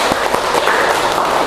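Applause from students in a classroom guidance and counseling session: a dense, steady patter of many hands clapping at even loudness for about a second and a half.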